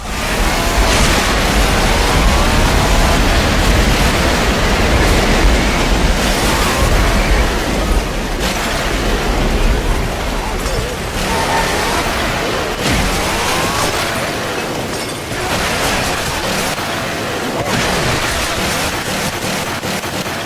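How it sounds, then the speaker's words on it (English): Heavy rain and thunderstorm ambience from the video game Left 4 Dead 2, a dense, loud, continuous roar of downpour with deep rumbling bursts, steady for about twenty seconds with no talk over it. "all of a sudden it'll be blinding rain, you'll barely be able to see"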